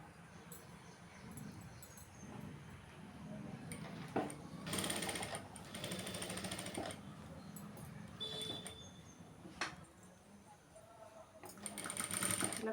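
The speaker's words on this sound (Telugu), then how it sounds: "ఇప్పుడు నేను కుడతాను" A sewing machine stitches the back part of a blouse with a square neck, running in short bursts of fast whirring separated by pauses, fairly close and moderately loud, with faint background rustles.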